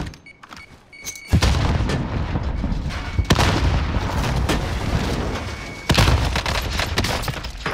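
Heavy combat fire and a booming blast from a thrown grenade during a firefight at a tower, loud broadband bursts starting about a second in and continuing, with another strong burst near the end.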